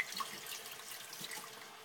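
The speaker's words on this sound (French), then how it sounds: "on se lave les mains parce que ça colle." Hands are rinsed under a running kitchen tap after handling sticky food, a steady soft hiss of flowing water splashing into the sink, fairly quiet and with no talking.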